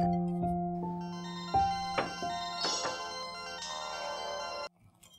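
A phone ringtone plays a bright melodic chime that rises through several notes over about five seconds before cutting off abruptly, heard alone indoors in the early morning.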